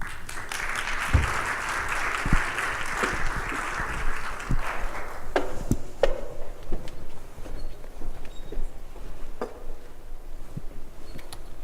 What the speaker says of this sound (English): If we could give them a round of applause as they come up.